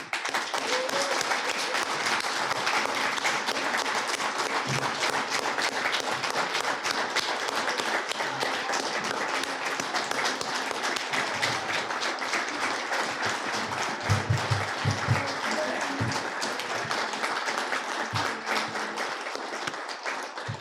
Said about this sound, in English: please give them a round of applause for Citizen of the Year.